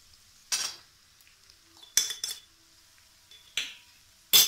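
A spoon clinks against a pan while dal with salt and turmeric is mixed, giving a few separate, sharp metallic scrapes and taps with quiet gaps between them and no voices.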